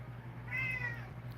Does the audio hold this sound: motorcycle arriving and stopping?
no